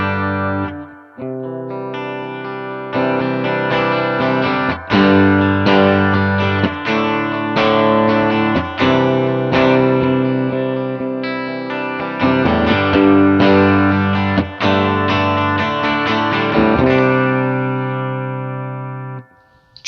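An electric guitar played through a Line 6 POD with drive, bass at zero, mids at ten and added reverb sounds out loud, sustained distorted chords, struck in a loose rhythm that rings out and decays into a reverb tail at the end.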